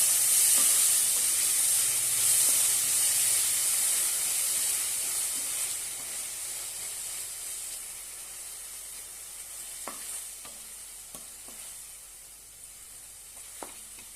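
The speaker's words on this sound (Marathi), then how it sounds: "बारीक अशी कापून घेतलेली आहे ती घालूया छानपैकी परतून घेऊया" Finely chopped fenugreek leaves sauté in a pan for methi pithla, giving a steady hiss that slowly softens, with a few light clicks of stirring and no talking.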